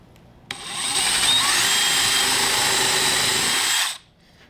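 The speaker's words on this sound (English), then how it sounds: "what I'm gonna do is first drill a counterbore hole" A Kreg drill bores a counterbore hole into a scrap 2x4, starting with a sharp onset and holding a loud, steady whining buzz for about three and a half seconds before cutting off.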